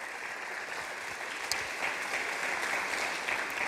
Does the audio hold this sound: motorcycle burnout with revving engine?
no